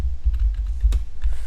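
Quick bursts of keystrokes on a computer keyboard while entering Minecraft region flag commands, irregular clicks over a low background hum, close and moderately loud, no voices.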